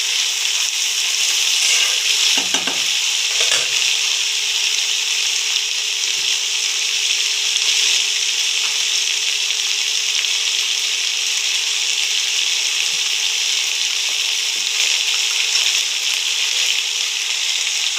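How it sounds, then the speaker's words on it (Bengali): Boiled dried peas frying for Bengali ghugni, a steady, dense sizzle that stays loud and even for a long stretch, close, with a couple of brief knocks near the start and no voices. "এবার এটাকে ভাজবো।"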